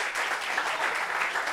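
A live audience at a celebrity-parents gathering applauds for the DJ in a short, full burst of clapping that stays dense and even throughout.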